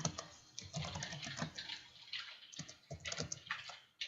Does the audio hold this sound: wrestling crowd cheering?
no